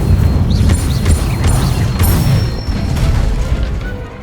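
An Incendio fire spell cast in a Harry Potter video game, with loud, dense bursts and crackling whooshes that rise and fall in quick repeated waves over several seconds, without speech.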